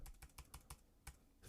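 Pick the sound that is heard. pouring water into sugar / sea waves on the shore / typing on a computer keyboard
typing on a computer keyboard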